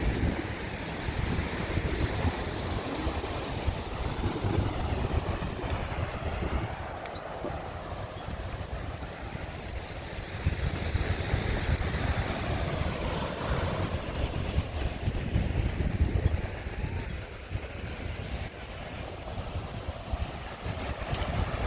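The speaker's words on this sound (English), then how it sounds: "I think the waves are a little too rough" Rough ocean surf on the Swakopmund coast of Namibia crashes and churns continuously, mixed with gusty wind buffeting the microphone; a steady, noisy roar with no voices.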